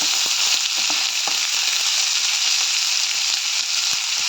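Onions sauté in coconut oil for a Kerala-style pepper chicken curry, giving a loud, steady close sizzle with scattered small pops and spatula clicks throughout.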